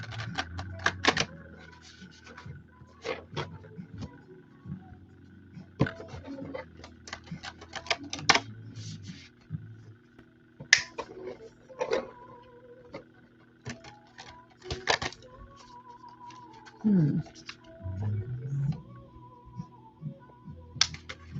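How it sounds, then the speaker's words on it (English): Tarot cards are shuffled close up in repeated crisp riffles and taps, with short pauses between bursts and no talking. "Get a couple shuffles in here."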